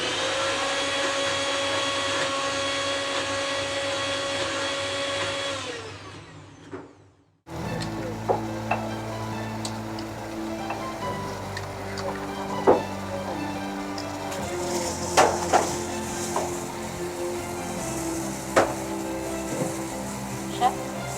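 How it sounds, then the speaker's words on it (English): A Bajaj kitchen grinder whirs loudly for several seconds as it blends yogurt into a smooth paste, then cuts off abruptly, followed by quieter kitchen clatter and sharp knocks. "just grind it in that Bajaj grinder"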